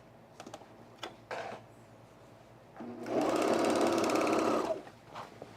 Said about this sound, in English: So I'm gonna serge this with the wrong side up